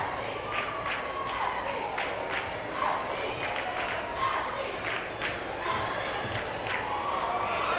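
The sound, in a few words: basketball crowd cheering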